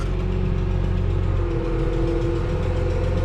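A Case 305 tractor's hydraulic remote raises a disc harrow, giving a loud, steady mechanical whine and hum over the idling engine, with a rising tone partway through.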